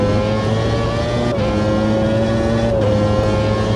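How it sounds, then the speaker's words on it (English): The engine of a red and white Footwork race car drones loud and steady in a racing video game, with its pitch dipping briefly as it shifts or passes. Nobody talks. "There he is once again, the red and white Footworks car."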